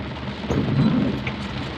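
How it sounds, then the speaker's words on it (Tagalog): Heavy rain pours down during a road trip, a dense, steady hiss with a slight swell in the middle of the short stretch and no distinct thunderclap. "Grabe lakas ng ulan"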